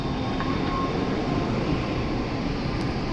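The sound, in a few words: Shinkansen N700S Nozomi train at Nagoya station platform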